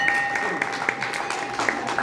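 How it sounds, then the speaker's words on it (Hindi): Audience clapping during a spiritual quiz event, rewarding a correct answer from a participant who came from abroad; steady, moderately loud applause with sharp hand-claps throughout. "इनके लिए ज्यादा ताली बजनी चाहिए"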